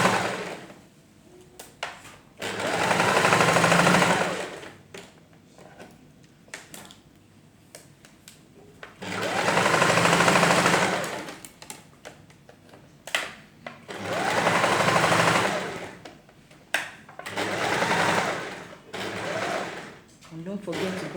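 A sewing machine stitches the lining of a princess dart blouse in four sustained runs of fast, close whirring, with quiet gaps and soft handling noises and speech between bursts.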